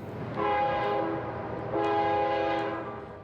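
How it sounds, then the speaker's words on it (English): A train horn sounds in two long, loud blasts over the steady rumble of a speeding train passing along tracks through Banff National Park, with no voices. "Seconds from staring down a speeding train."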